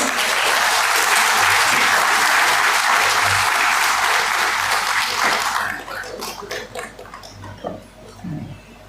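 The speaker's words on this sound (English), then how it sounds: "can we welcome them with a round of applause, please?" Audience applauding to welcome dignitaries at a corporate event, a dense, loud round of clapping that holds steady for about five seconds, then thins into scattered claps and fades.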